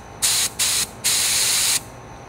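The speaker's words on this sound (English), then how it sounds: "I am gonna use this spray gun, which is filled with water" Three bursts of water from a hand spray gun, two short and one longer, each a bright steady hiss that stops sharply, close and fairly loud with quiet gaps between.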